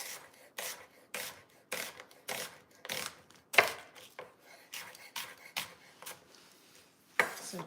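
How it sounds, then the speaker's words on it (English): A knife chops an onion in a steady rhythm of about a dozen crisp, close strikes on a board, each followed by a short pause, with one or two harder knocks. "So just as easy as that, our onion is chopped"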